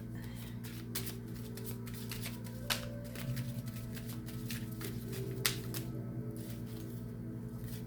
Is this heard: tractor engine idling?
no